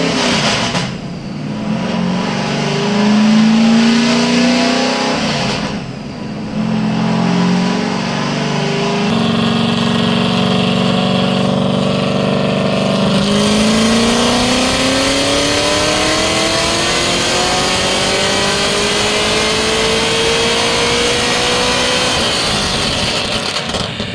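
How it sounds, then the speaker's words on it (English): A Nissan S13 with a fresh cylinder head revs on a dyno, the engine rising and falling through several loud pulls before climbing in one long sweep toward the limiter, close and continuous with no voices. "we did one dyno run just to see where it's at"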